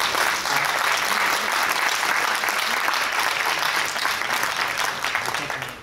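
Sustained applause from an audience at a live talk about mathematics, a dense, steady wash of many hands clapping at close range that stays loud throughout and tapers slightly at the end, with no voices standing out.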